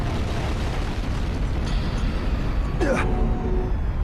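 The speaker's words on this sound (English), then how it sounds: "It's a bomb. What the? That sure as shit wasn't a joke, it blew the hell up." A bomb explodes in the video game Danganronpa: Trigger Happy Havoc, producing a loud, sustained roaring blast with dense rumbling debris noise and a sharp whistling sweep late in the sound.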